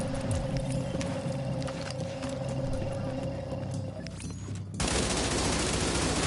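A weapon fires rapidly in The Division, sustained automatic bursts blending into a dense roar that cuts off sharply near the end, followed by a different broadband hiss.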